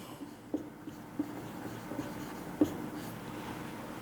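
Chalk or marker scratching across a classroom board as a momentum formula is written, a faint scraping stroke with a few small taps, quiet and close against a hushed room.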